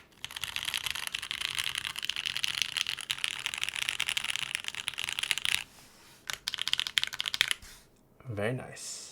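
Keystrokes on a Fjell R4 mechanical keyboard, with heavy spacebar presses, click and clack steadily and densely for several seconds. The typing then stops, a few scattered taps follow, and a short voice sounds near the end.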